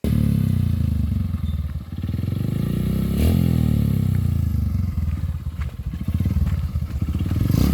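A motorcycle engine revs close by in rough, loud bursts with clattering mechanical texture that rises and falls over several seconds.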